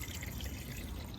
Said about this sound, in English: So I'm just gonna let the oils flush out now.